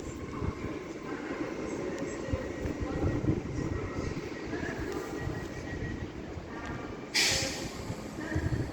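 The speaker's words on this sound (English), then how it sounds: "802301 with a Hull Trains service to London King's Cross." A Hull Trains Class 802, unit 802301, runs on a service to London King's Cross at Doncaster with a continuous rumbling rolling drone of wheels and motors, joined near the end by a brief hiss.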